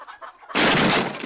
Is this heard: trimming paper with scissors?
no